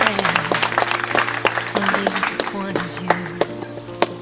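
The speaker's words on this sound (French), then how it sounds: "On peut les applaudir." Applause for the bride and groom at a wedding, steady clapping from a crowd of guests with sharp individual claps standing out, while a voice speaks underneath.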